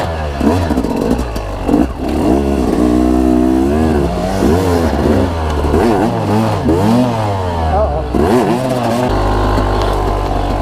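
A dirt bike engine revs hard as the rider opens the throttle, the pitch climbing and dropping through repeated loud accelerations before settling into a lower idle.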